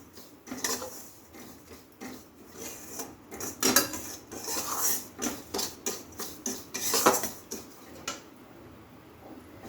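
Semolina being dry-roasted in a pan with oil, dried chilli, cinnamon and cardamom, stirred with a spoon: repeated scraping and rasping strokes against the metal, fairly close and moderately loud, with no talking.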